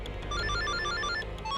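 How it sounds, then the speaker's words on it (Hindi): A mobile phone plays a loud, continuous melodic ringtone of repeating tonal notes up close, heard alone. "मेरा फोन आ गया।"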